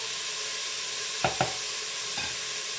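Food sizzles in a Cookeo multicooker set to browning mode, a steady close hiss broken by a few sharp clicks of a spoon stirring against the pot.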